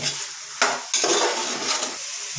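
Beans, carrot and soybean stir-fry in a pan, giving a close, crackling sizzle broken by two sharp scraping strokes of a spatula.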